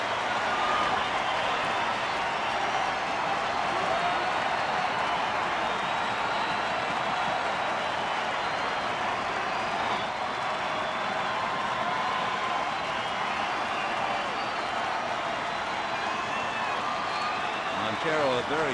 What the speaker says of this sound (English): Now the crowd on its feet, trying to root Padilla home.